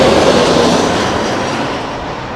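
A jet airliner lands at London Heathrow in the gusty crosswinds of Storm Kathleen, a loud, close roar of engine and wind noise that slowly fades and dulls, with no voices.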